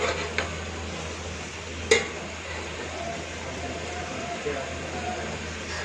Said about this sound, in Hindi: 5 मिनट तक हम प्याज़ों की भुनाई करेंगे।